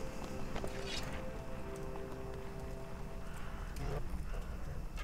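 Horses gallop in the video game Mount & Blade: Warband, a quick, continuous clip-clop of hooves from a mounted army, with a faint voice speaking underneath.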